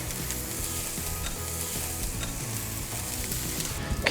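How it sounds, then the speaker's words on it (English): Chicken wings for smoked margarita wings cooking on a grill give a steady, dense sizzle that stays even throughout, close and unbroken, with a slight rise and a small clatter at the very end, no voices. "Now I'm going to place the wings on the grill."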